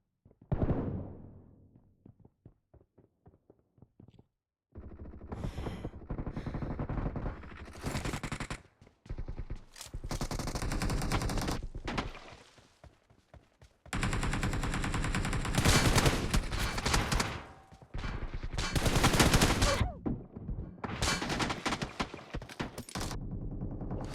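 Rapid automatic gunfire in a shooter video game comes in long loud bursts with short pauses, close and harsh, filling most of the stretch without talk.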